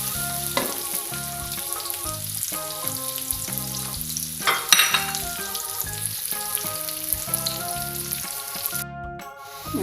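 Onions being stirred while frying in a pan, a steady close sizzle with stirring scrapes over music playing in the background.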